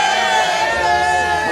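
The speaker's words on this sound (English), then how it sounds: "We're going to do another cheer, guys." A small crowd of marchers at a UKIP street march in Dover lets out a sustained, loud shout of cheering voices together.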